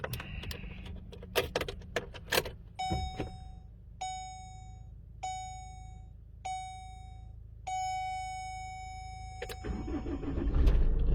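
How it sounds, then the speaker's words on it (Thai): A Chevrolet Colorado is started by remote key: a series of beeps and chimes come first, then the starter cranks and the engine catches, rising into a steady close idle with no talk. "ทดสอบสตาร์ทครับ"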